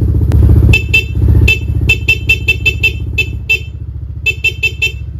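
A SeaWorks replacement horn on a motorcycle honks in a series of short, loud, close blasts over an idling engine, some single and some in quick clusters.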